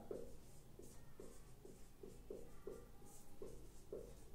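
Chalk or marker writing on a classroom board during a maths lesson, a steady rhythm of short scratchy strokes, quiet and close, with no talking.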